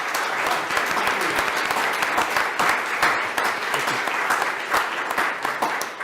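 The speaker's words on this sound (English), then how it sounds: "one more round of applause for Ms. Singletary." Sustained audience applause fills a school board meeting room, dense steady clapping from many hands at close range with no pauses, a few faint voices buried underneath.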